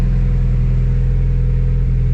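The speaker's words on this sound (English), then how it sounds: "It's just idling at the moment. It's still warming up" A car engine idles while still warming up, a loud, steady, close low rumble with an even pulsing beat and no voices.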